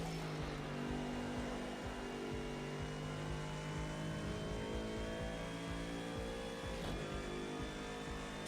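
A GT3 race car engine on the Bathurst circuit in Project Cars 2 pulls hard down a straight, its steady high-revving drone rising in pitch, then briefly breaking near the end as a gear is changed.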